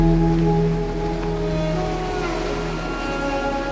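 Heavy ocean waves churn steadily around a sailboat offshore at night, a continuous wash of water and surf close by with no voices.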